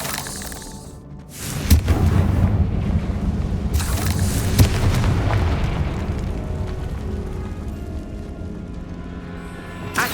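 The Confringo blasting spell in Hogwarts Legacy explodes with a loud booming burst, followed by a long rumbling roar that slowly decays, with a few smaller pops and crackles near the start and end.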